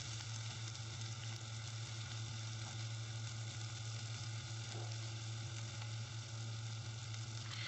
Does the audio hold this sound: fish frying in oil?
yes